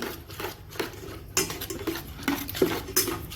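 Dhokla batter stirred in a bowl, the spoon clinking and scraping against the sides in a quick, irregular run of close, fairly faint strokes with no talking.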